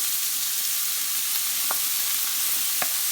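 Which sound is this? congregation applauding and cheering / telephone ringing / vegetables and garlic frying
vegetables and garlic frying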